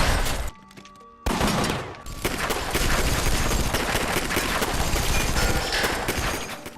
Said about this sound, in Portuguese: Tiros são trocados